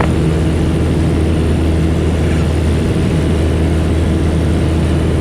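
A Piper Warrior light airplane's engine drones at full power during its takeoff roll, a loud steady propeller roar heard from inside the cockpit.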